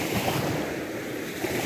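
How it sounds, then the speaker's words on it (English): Waves wash over sand in an estuary with a steady, close rush of surf, continuous and fairly loud, mixed with wind buffeting the microphone. "Gotta wait for the waves to pass through."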